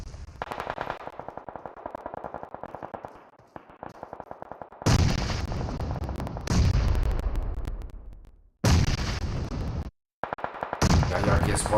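A heavy exchange in a PUBG Mobile tournament match, with rapid automatic gunfire rattling steadily, then several loud, booming grenade explosions that cut in one after another and decay into rumbling reverberation.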